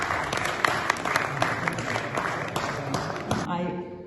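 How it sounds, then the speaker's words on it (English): Audience clapping at a book ceremony for overseas Pakistanis, an even patter of many hands under faint voices, cutting off abruptly near the end. "Give them a big clap."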